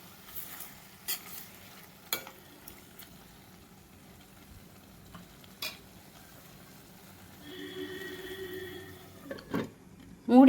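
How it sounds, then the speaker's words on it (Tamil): Tomato gravy with salt being stirred in a pan: a soft steady sizzle with a few scattered scraping strokes and clinks of a spoon, close and moderately quiet, building to a louder stir near the end, with no talk. "இப்போ இதில் சிறிதளவு உப்பு போட்டுட்டு நல்லா கலந்து விட்டுட்டு"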